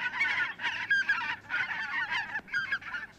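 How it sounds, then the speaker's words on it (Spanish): Geese honk repeatedly in a close, loud burst of nasal calls with brief gaps, in a stage play setting, and no voices are heard. "El graznido es la llamada del apareamiento y este siempre anuncia problemas."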